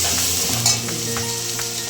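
Spices sizzle and crackle steadily in hot oil for a tempering, a close, continuous frying hiss with a few stirring scrapes.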